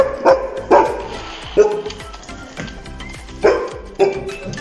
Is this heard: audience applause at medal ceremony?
no